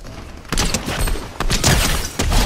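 Rapid bursts of gunfire from the well gun in Fortnite Creative 2.0, loud and close, firing in several clustered volleys with brief gaps between them.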